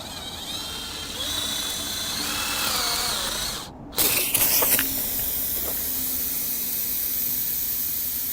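Tire puncture repair foam sealant hisses loudly and steadily from an aerosol can for several seconds, briefly cutting out and then resuming with a sputtering burst before settling back into a continuous spray.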